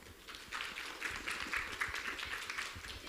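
Audience applause and clapping after a speech at a maker live talk show event, a crowd of hands clapping in a steady, dense patter for a few seconds at moderate distance.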